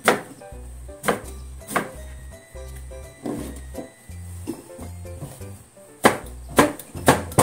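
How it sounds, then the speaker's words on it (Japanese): A knife chops eggplant and cucumber on a cutting board, sliced lengthwise in half and then on the diagonal for quick pickling, giving sharp, close, evenly spaced knocks through the clip with short pauses between bursts. "これをね、縦半分に切って斜め切りしますね。"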